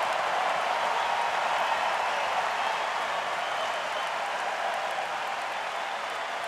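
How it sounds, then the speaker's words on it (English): A tennis crowd roars at Armstrong stadium during a Zverev versus Dimitrov third-round match in 2023. The noise is a steady, distant wash that holds for several seconds and eases slightly toward the end. "The crowd on fire out here on Armstrong"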